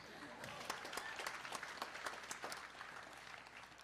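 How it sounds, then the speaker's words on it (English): A commencement audience applauds at a school graduation, a continuous wash of clapping with scattered sharper claps, heard from a distance at low level, with crowd noise underneath. "Let's get an applause for that."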